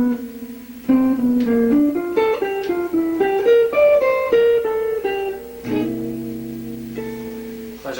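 A guitar plays a quick run of single picked notes climbing and winding over several seconds, then ends on a ringing held chord, close and clear with no voices.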